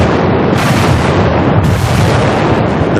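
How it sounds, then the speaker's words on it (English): Battleship 16-inch guns fire in a bombardment, producing loud, continuous booming and rumbling blasts that overlap densely across the whole stretch with no quiet gaps. "The relentless bombardment from their 16-inch guns helped pave the way"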